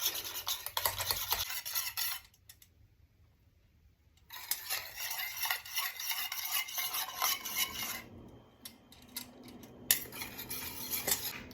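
A spoon stirs pancake batter in a bowl, making close, quiet clinking and scraping strokes. The stirring stops for about two seconds midway, then resumes with brisk, uneven clatter. No one talks.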